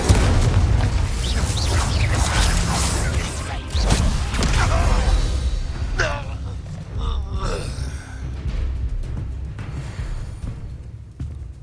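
An Incendio fire spell blasts in Hogwarts Legacy as several booming, crackling bursts of flame burst out in quick succession amid combat noise, loud and near, fading to scattered thuds and crackles with brief voices mixed in.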